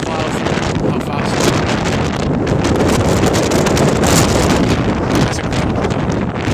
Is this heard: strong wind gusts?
yes